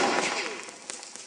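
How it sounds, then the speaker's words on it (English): A chunk of sodium metal dropped into water bursts with a sharp snapping explosion, followed by fizzing, crackling pops fading over about a second. "here's another video of sodium being dropped into water."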